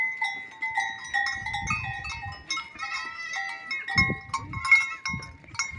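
Goats on a farm with bells on them, the metallic clanking ringing steadily throughout, mixed with shuffling and thuds from the animals and occasional faint bleats, under a little background talk.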